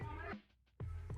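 A cat meows in a children's alphabet phonics lesson. There are two or three short, close, clear meows with a brief quiet gap between the first and the rest.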